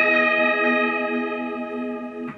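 Clean electric guitar chord from a green Ibanez Universe through a Line 6 HD500 with chorus effect, a single sustained shimmering chord ringing close and clear, slowly decaying, with a faint pick noise near the end.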